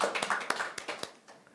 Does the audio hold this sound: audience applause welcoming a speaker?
yes